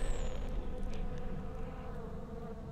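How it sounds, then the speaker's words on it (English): A buzzing insect drones inside The Secret World video game, a continuous close hum set over a low ambient bed. "You can even hear the buzzing."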